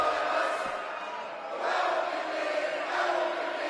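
A sold-out crowd fills a wrestling arena with a steady roar of cheering and shouting, broad and sustained with swells near the middle and end, heard from within the hall.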